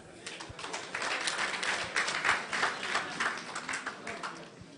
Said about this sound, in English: You clap hands for the DJ.